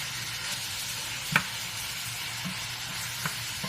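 Ground meat sizzles as it browns in a pan, a soft, constant fry with a couple of brief scrapes or taps from stirring.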